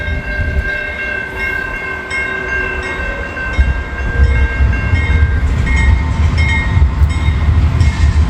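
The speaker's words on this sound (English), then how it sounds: "Got a train this time. Norfolk Southern 60C." Norfolk Southern train 60C rolls through the Walnut Street grade crossing in Muncie as the gates come down, a loud continuous rumble of rail cars with the crossing bells ringing steadily over it.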